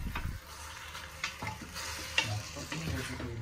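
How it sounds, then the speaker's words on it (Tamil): Mutton sizzles and fries in oil with turmeric and salt while being stirred for a Tamil mutton curry, with close, soft sizzling and several sharp scraping stirs of a spoon against the pan. "1 டேபிள் ஸ்பூன் உப்பு ஆட் பண்ணிவிட்டு நல்லா வதக்கிக்கோங்க."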